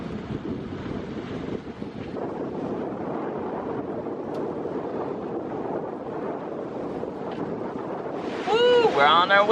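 On a catamaran sailing in 12 to 15 knots of wind over somewhat messy seas, wind buffets the microphone with a steady roar and water washes below it, and voices talk over it.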